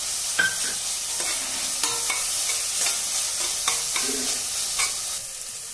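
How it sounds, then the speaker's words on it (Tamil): Onions and cashew nuts sauté in a pan for mutton biryani: a continuous sizzle broken by repeated scraping stirs of a spoon, close and fairly loud, with no voices. "வெங்காயம் நல்லா வதங்கட்டுங்க இன்னும் கொஞ்சம் இந்த நேரத்தில் நம்ம இந்த முந்திரி பருப்பு சேர்த்துக்கலாம்"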